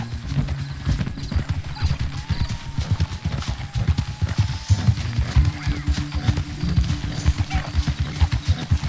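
Horse hooves clip-clop in a steady walking rhythm on a road in Red Dead Redemption 2, loud and close, with faint game ambience underneath.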